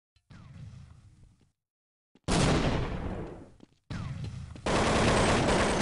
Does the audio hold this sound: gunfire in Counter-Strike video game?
yes